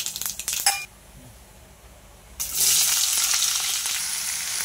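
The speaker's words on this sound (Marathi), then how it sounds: "तेल आपलं गरम झालेलं आहे, मी हे मसाले टाकते त्याच्यात" Whole spices hit hot oil in a pan with some clinks before a quiet pause, then a loud, bright, continuous sizzle sets in and holds steady to the end.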